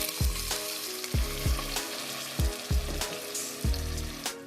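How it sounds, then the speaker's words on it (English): Beef broth pours into a hot pan of goulash with minced garlic, setting off a strong sizzle and a series of splashing, gurgling bursts that rise and fade repeatedly, close and loud. "Now I'm going to add in my beef broth."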